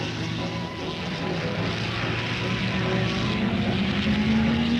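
1961 racing cars at the New Zealand Grand Prix drone past steadily, a loud continuous engine roar with a rising whine near the end, under a constant wash of crowd and background noise.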